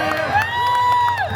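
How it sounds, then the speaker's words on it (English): Audience at a Deadpool Christmas Carol-Pool show at Disney California Adventure, a loud burst of cheering and whooping with high voices rising and falling over crowd noise. "so you can feel free to applaud like them."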